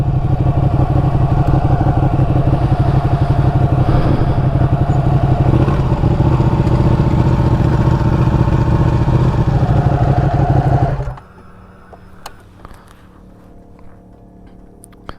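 A Ducati Panigale 959 motorcycle rides the Tail of the Dragon mountain road, its engine droning loud and steady from close up for about eleven seconds before cutting off abruptly, leaving quiet background with a few small clicks.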